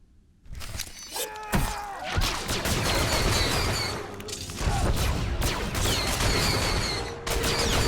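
Gunfire erupts in a blaster fight in Star Wars: The Old Republic, with repeated loud shots and impacts, sharp bursts, thuds and shattering over a busy, dense combat din with no talk.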